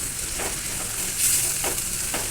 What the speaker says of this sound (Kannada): ಎಲ್ಲ ಹಾಕ್ಕೊಂಡು ಫ್ರೈ ಮಾಡ್ಕೊಳ್ಳೋಣ ನೀಟಾಗಿ